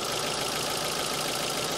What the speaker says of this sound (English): I'm going to leave this here with the knocking mount